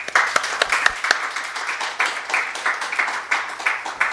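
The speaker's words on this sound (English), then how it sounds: "Let's give her a round of applause" A lecture audience claps for a speaker at a talk on wartime history, the individual hand claps distinct and fairly sparse, moderately loud and steady, with a faint low hum underneath.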